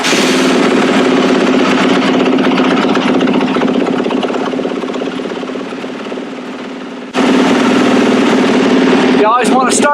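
A Yamaha YZ450 motorcycle engine runs loud and close at a steady, rough idle, briefly cutting out before roaring back up, with some clicks at the end.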